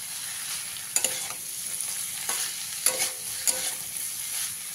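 Onion and chopped green chilli fry in a pan while being stirred, a steady soft sizzle broken by a few sharp scraping clicks of the spoon, close by with no voices.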